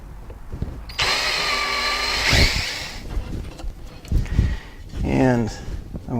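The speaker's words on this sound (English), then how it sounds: "we'll go ahead and drill some pilot holes" A power drill drills pilot holes at close range in a couple of short bursts, with people talking over and between them, while a hanging square-foot garden is built.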